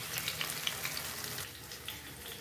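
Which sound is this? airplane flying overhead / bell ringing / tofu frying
tofu frying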